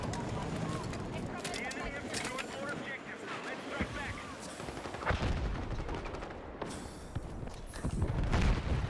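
Bursts of rapid gunfire crackle through a Battlefield 6 match, mixed with distant explosions and wind, while someone talks over the action.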